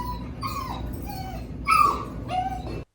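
A dog whimpers and yips in a few high, wavering whines, close and fairly loud, with a steady background hum.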